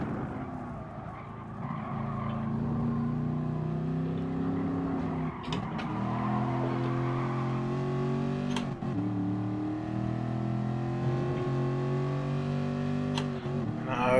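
A rear-wheel-drive race car in Gran Turismo Sport brakes and drops through the gears, its engine note falling and rising in stepped blips with sharp downshift pops over a loud, close, continuous drone.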